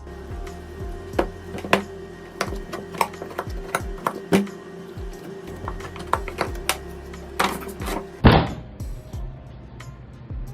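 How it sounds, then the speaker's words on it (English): A very sharp steel knife slicing food on a cutting board, giving a quick irregular series of crisp taps and thunks, close and fairly loud, with one louder scraping chop near the end. "That is the sound of a truly sharp edge doing all the heavy lifting for you."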